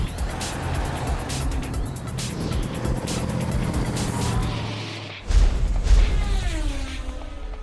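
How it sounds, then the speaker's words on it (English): A red Ferrari 360 Spider sports car is heard, its engine droning loudly and steadily and then surging sharply as it passes close by, with no talk over it. "It's a pretty special 360 Ferrari."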